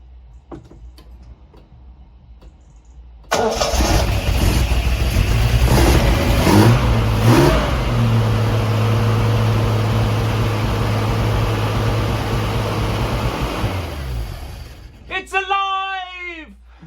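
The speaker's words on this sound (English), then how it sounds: "Well, it starts, and I'm really impressed at how easily it started." Triumph TR6 engine with a freshly rebuilt unleaded-conversion cylinder head cranks and fires after quiet clicks, then runs loud and steady at a fast idle for about ten seconds before settling, with a voice starting at the very end.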